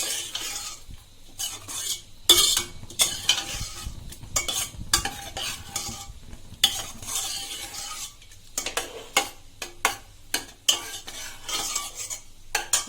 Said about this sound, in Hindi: तो इसमें मैं ये आधा मसाला मैं इस दाल में मिला दूंगी।